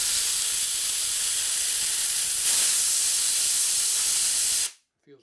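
A strong, steady hiss of compressed air blasts through the crankcase of a 1947 Harley-Davidson EL Knucklehead 74ci engine for about four and a half seconds, then cuts off abruptly.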